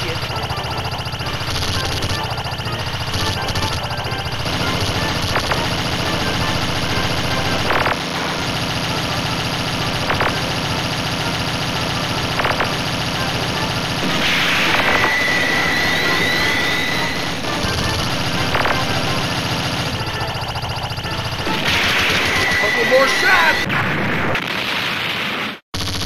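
Artillery barrage in the shoot-'em-up Donpachi: loud continuous booming and roaring blasts layered with game music and electronic tones, sustained for the whole stretch before cutting off abruptly at the end.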